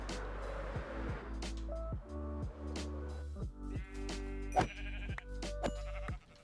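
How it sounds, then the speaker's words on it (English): Blocky video-game sheep in Minecraft bleat several times, short wavering calls layered over steady looping in-game music and ambient tones. "Okay, here's some sheep."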